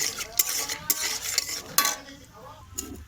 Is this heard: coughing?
no